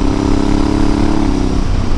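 Honda Africa Twin DCT motorcycle engine running with a steady, loud mid-pitched drone and slight shifts in tone near the end, no talking.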